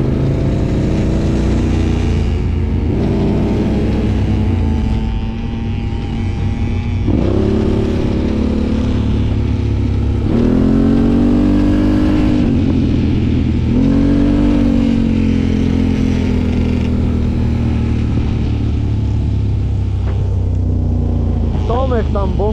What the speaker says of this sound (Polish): Tomek tam bąki kręci.